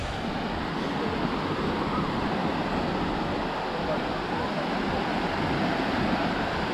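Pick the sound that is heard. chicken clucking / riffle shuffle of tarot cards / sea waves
sea waves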